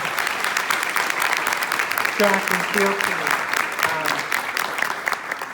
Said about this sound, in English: So that was a moment to cue the applause for our very special